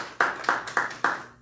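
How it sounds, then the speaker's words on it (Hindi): Four sharp, evenly spaced hand claps ring out close and fairly loud in a church service, each with a short decay, with no talk over them. "ओ यार, सवेरे सवेरे की नाश्ता करके ताली मार दो"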